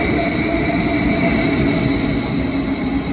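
A train arrives alongside a station platform in Switzerland, rumbling steadily with a sustained metallic hum and faint high whine from the wheels, loud and close throughout.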